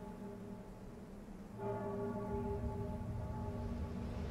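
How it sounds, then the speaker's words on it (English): A resonant bell rings out in the video game Dark Souls 3, its tones swelling partway through and lingering over a low background hum. "the bell is ringing once again"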